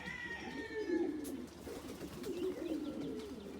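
Racing pigeons in a loft give soft, low throaty coos that rise and fall in repeated phrases, close by and fairly quiet, with faint higher bird calls early on.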